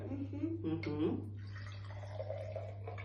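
Water is poured into containers, a soft splashing trickle that starts under a voice and carries on alone for a couple of seconds.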